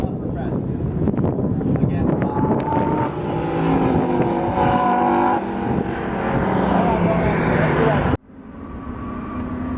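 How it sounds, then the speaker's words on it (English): Lamborghini Gallardo Superleggera pushed through a fast lap at a Las Vegas racetrack, its engine droning loud and continuous with rising and falling harmonics as it accelerates and shifts, heavy wind rush over the top, ending in an abrupt cut. "here's the fastest lap of the Gallardo Superleggera"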